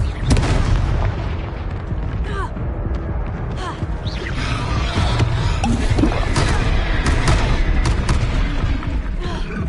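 Confringo fire spells from Hogwarts Legacy go off as loud, booming blasts and crashes layered over a dense, continuous rumble of in-game battle noise throughout.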